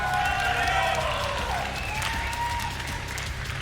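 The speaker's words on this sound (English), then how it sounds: "I hear a bit of an applause" A live crowd at the 2018 Quake Champions esports finals gives scattered applause and cheers, with a steady broadband roar under some talk and tonal sweeps throughout the short stretch.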